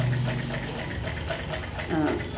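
Sewing machine stitching the lining into a shirt, a steady rapid mechanical whir running throughout at close range, with soft speech in the background.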